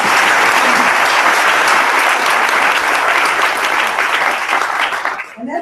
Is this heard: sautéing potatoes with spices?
no